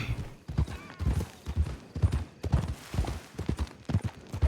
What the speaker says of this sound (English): Said I could hear a horse running around.